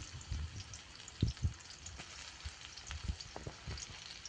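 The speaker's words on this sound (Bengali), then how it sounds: "পেঁয়াজ কুচি দিয়ে ভালোভাবে নেড়ে চেড়ে নিচ্ছি।" Chopped onions fry in oil while being stirred, a soft sizzle broken by low thumps and scrapes of the spoon, fairly quiet and close, with no voices.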